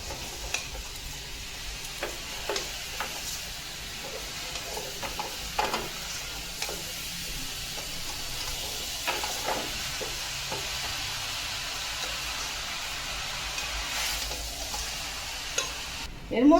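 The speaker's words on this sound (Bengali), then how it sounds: "এইভাবে আমি এবার নাড়তে থাকবো।" Ash gourd murabba stirred with sugar in a pan, a quiet steady simmer broken by soft scrapes and taps of the spoon against the pan, ending in a sharp clatter.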